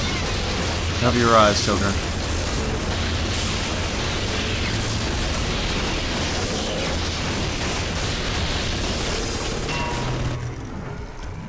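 Turrets and electric gel attack a Big Daddy in Bioshock, a dense, steady roar of gunfire, crackling electricity and explosions running throughout, with a short rising whine early on and a voice talking over the din.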